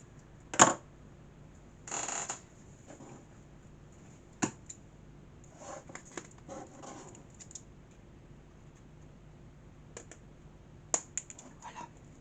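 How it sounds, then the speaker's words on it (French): A few short, crisp snips of scissors cutting paper pages for a handmade album binding, spaced out with quiet gaps between them and no talking. "Ciseaux."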